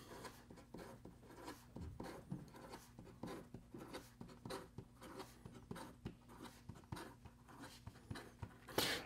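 A Kaweco Sport Iridescent Pearl fountain pen writes quickly, giving quiet, close, rapid scratchy strokes in a steady, busy rhythm with no voices.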